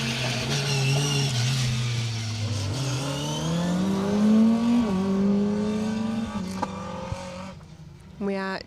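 Peugeot 207 rally car on a rally stage, engine revving and droning as it accelerates past, pitch climbing through gears then fading, with a commentator talking over it.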